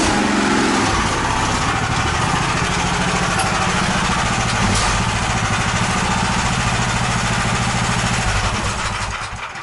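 A Lifan engine powering a homemade tractor with Soviet-built axles runs steadily up close, a loud, even, rattling putter that holds for several seconds and eases off slightly at the end.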